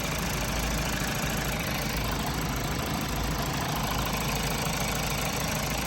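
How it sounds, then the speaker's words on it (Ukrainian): A 2014 Mazda CX-5 with a 2.2 diesel engine and automatic transmission idles with a steady, close diesel clatter and low rumble, running continuously with no talking. "Класна робота мотора."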